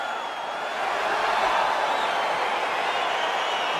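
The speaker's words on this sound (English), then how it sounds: "crowd getting excited as this fight gets underway" Crowd roar in the EA Sports UFC 4 video game arena as a heavyweight bout gets underway, a steady dense wash of cheering that swells slightly after the first second and holds loud throughout.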